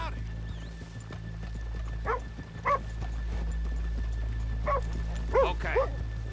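Horses in Red Dead Redemption 2 on a town street, clip-clopping hooves over a low steady rumble, with several short barks or yips cutting through near the end.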